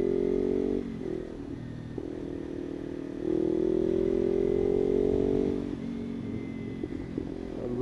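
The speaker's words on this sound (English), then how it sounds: "I love that exhaust, man." A motorcycle engine idles and rumbles nearby, its exhaust note rising briefly in a steady revving drone before settling back.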